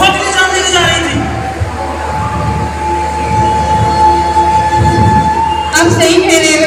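A train running along a rail line, loud and close, with a steady rumble of wheels on track and a sustained tonal whine before a burst of clatter near the end.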